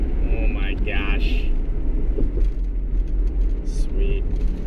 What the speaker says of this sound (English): Oh, here's the traffic.